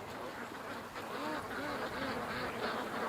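Ducks heading back out onto a lake, quacking faintly in the distance, a soft chorus of overlapping calls under steady background noise, with no one talking.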